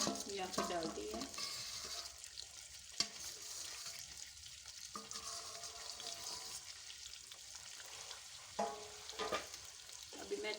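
Semolina being stirred in a pan for makhani halva, a soft continuous sizzle with scraping strokes of a spoon, faint and close.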